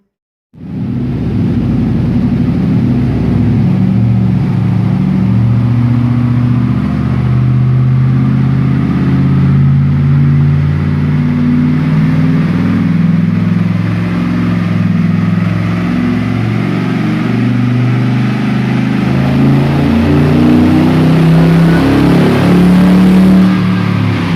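A V8-swapped Ford Ranger engine roars continuously on a dyno, loud and close, holding a steady high-load drone that climbs gradually in pitch for over twenty seconds with no talking.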